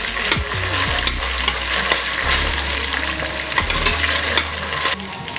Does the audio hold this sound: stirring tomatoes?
yes